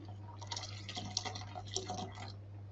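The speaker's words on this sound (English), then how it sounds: "Pour in the rest of the water." Water is poured slowly into coffee and sugar while making iced coffee syrup, a faint close trickle and splash over a low steady hum.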